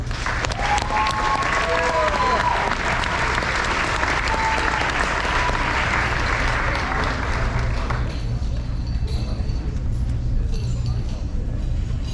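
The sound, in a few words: audience applause at senior awards ceremony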